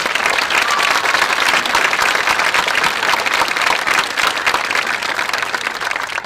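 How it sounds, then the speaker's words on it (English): A commencement audience bursts into sustained applause, a dense wash of many hands clapping at steady loudness throughout. "Can we give them all a round of applause, please?"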